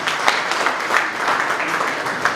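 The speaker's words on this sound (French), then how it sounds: "Applaudissez pour lui, on va parler de lui." An audience at a marketing presentation breaks into brief applause, a dense wash of clapping that is fairly loud and continuous for a couple of seconds.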